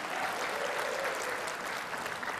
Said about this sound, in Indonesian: kita tepuk tangan untuk ronde pertama putaran putaran pertama ini